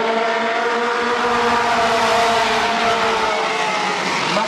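Race cars accelerating on a racing track under a green flag: a loud, continuous, droning engine roar from several cars that holds steady throughout, with no talk.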